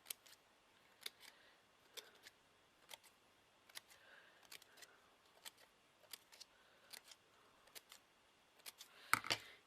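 Scissors snipping around a coloured cardstock paper circle, giving a steady series of crisp, faint, close cuts roughly once per half second, with a louder rustle at the end.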